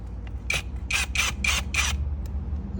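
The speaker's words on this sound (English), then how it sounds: "I'm gonna try my impact gun again." An impact gun works loose the carburetor boot screws on a 1994 Yamaha Virago XV535 motorcycle, giving five short, sharp rattling bursts in quick succession, close and loud, over a low background hum.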